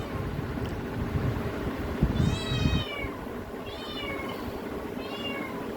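A cat meows three times, each a clear rising-falling call, spaced a second or so apart over faint household background noise.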